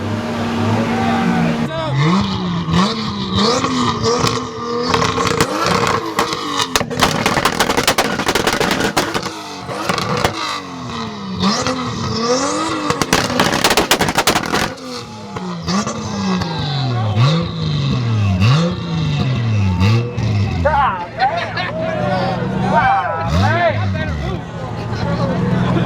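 A Mitsubishi EVO and a Toyota Supra sit on two-step launch control at a car show, engines bouncing off the limiter in loud rapid bursts of revving and popping, with a cheering crowd and voices throughout.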